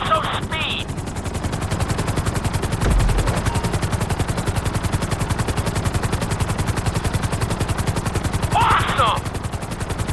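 A helicopter in the video game GTA 5 gives a loud, continuous rhythmic rotor chop throughout, close and steady, with brief voice snippets at the start and near the end.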